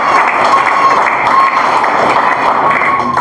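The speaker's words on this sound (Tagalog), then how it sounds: "Malakas nga na palakpak para sa Panginoon." A church congregation breaks into loud, sustained applause, dense steady clapping from many hands filling the room without letup.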